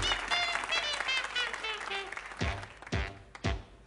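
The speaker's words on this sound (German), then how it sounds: "Hör mal den Applaus, ja." Television studio audience applauding at a 1971 German variety show, a dense sustained clatter of many hands with a few sharp louder claps near the end and no talk.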